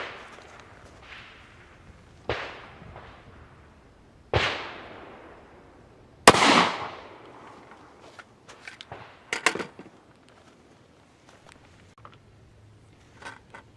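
Elite Ammunition Protector 5.7x28 rounds with 40 grain VMAX bullets fired into clay: four sharp, loud cracks a couple of seconds apart, each with a brief decaying tail, followed by clatter and handling noises.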